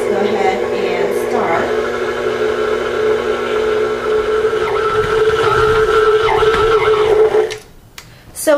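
An electric mixer beats sugar cookie icing in a bowl, giving a steady loud motor whine that runs for several seconds before cutting off, with a voice talking over it.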